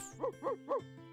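Small dog César in the cozy life-sim game Witchy Life Story barks three times in a quick, even rhythm, close and clear over a soft steady musical drone, with no talking.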